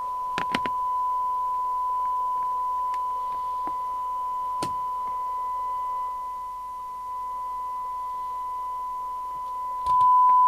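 A steady test tone from a signal generator comes through a Fidelity CB1000FM CB27/81 UK FM CB radio receiver, holding one even pitch for the whole stretch, with a few faint clicks near the start and end.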